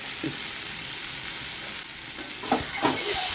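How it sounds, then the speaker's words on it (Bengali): Pumpkin pieces fry with salt and turmeric in a pan, making a steady close sizzle, with a few louder scraping stirs toward the end. "মিষ্টি কুমড়াটা ভাজা ভাজা হয়ে যাওয়ার পর লাস্টে নামানোর সময় আমি একটু চিনিও দেব"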